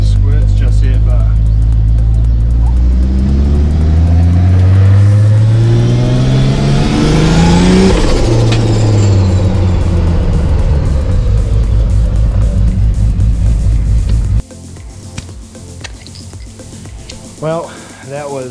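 Nissan Patrol with a Barra engine and a freshly rebuilt gearbox drives off, its close, loud engine rising and falling in pitch as it pulls through the gears before settling near the end.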